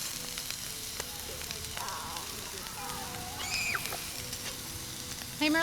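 Cheese frying with ramen noodles in a pan, a steady crackling sizzle with occasional pops and faint clinks, close and continuous, with a brief voice in the background.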